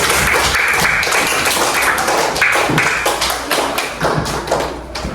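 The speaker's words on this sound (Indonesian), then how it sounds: "Oke, tepuk tangan semuanya." Classroom of students clapping together in applause, a loud, close patter of many hands with rhythmic bursts that thin out toward the end, no talk over it.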